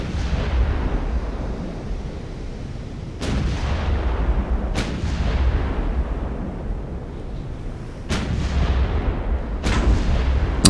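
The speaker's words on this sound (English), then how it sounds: "There was our ranging shot." Naval artillery from the warship game Ultimate Admiral: Dreadnoughts, with four loud, sharp gun blasts spaced several seconds apart over a constant low rumbling ocean and engine bed, no speech.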